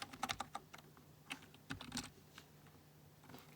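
Linux commands typed on a computer keyboard, with quiet close key clicks in a quick burst, then a few scattered taps and a final flurry, alone in a hushed room.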